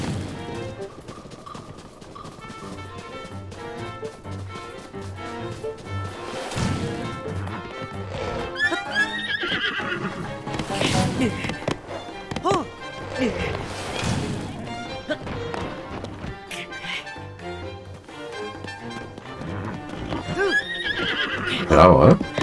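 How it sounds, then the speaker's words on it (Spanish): Horse neighing and hooves in Zelda: Tears of the Kingdom, whinnies rising out of busy game sound effects and music, with speech over much of it. "un caballo"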